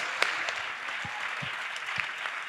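A crowd applauds with dense, steady clapping that carries on throughout, with a few sharper individual claps standing out.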